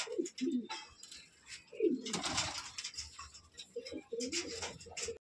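Green-eyed Madrasi pigeons coo in repeated throaty phrases while being held in the hand at a loft, close and fairly loud, with a noisy rustling burst midway.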